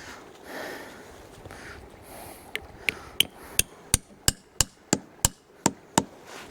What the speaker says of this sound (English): Tap it in, and then you know when it's tight just by the sounds of it.